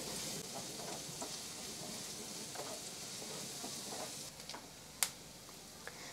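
Chopped onion, garlic and ginger frying in oil, a soft continuous sizzle with faint crackles and a few sharp utensil clinks near the end, quiet and steady with no talk.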